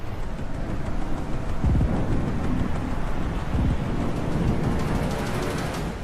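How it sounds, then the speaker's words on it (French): Thunderstorm with heavy rain and strong wind battering the Florida coast, a steady loud roar with low rumbling swells of thunder, no voices. "les intempéries commencent à malmener les côtes de la Floride"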